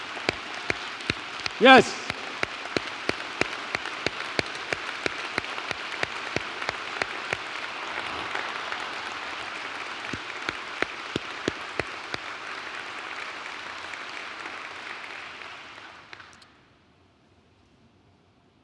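Audience applause for essential university staff at a State of the University address, steady clapping that holds for about sixteen seconds with a few sharper claps standing out, then fades abruptly; one voice speaks briefly early on.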